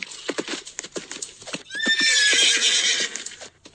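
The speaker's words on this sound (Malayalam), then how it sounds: "കുതിരക്ക് എന്താ സ്പീഡാ?" A horse gallops with rapid clip-clopping hooves, then gives a loud, drawn-out neigh midway, close and clear with no talking.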